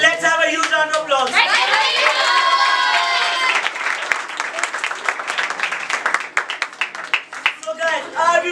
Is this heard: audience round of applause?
yes